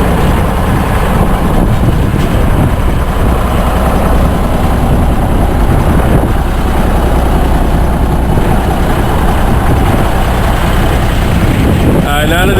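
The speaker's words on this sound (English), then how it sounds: "now that it's warmed up a little bit, I'm gonna let you hear how it sounds with the straight pipe" A warmed-up 1967 Freightliner cabover truck idling with a straight pipe, giving a loud, continuous, rough rumble close by that holds steady throughout with no talking.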